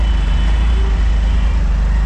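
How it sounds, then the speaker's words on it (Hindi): Heavy street traffic in Delhi's Karol Bagh area, a steady loud roadway rumble of trucks, cars and buses continuing throughout with no voices. "बहुत ही ज़्यादा ट्रैफिक है दिल्ली में"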